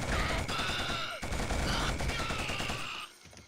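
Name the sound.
suppressive gunfire in Killzone video game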